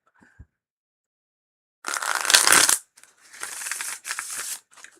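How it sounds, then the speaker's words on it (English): Deck of tarot cards being shuffled during a reading, a faint tick at first, then three bursts of riffling and rustling separated by short pauses, close and clear with no voice. "Ooh, that's a good shuffle."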